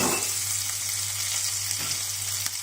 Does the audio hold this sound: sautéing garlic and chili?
yes